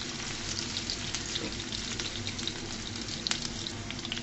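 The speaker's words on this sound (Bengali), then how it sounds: "এই পেঁয়াজ আর রসুনটাকে আমি হালকা করে ভেজে নেব" Onion and garlic frying lightly in a pan for a fish egg curry, giving a steady, even sizzle and crackle throughout with a few faint clinks, close and alone.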